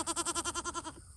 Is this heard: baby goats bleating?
yes